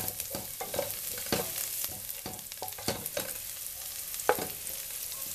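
Chopped garlic frying in lard in a pan for rice, a steady close sizzle with repeated stirring scrapes and clicks throughout, no talking.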